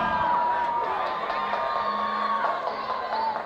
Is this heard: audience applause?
yes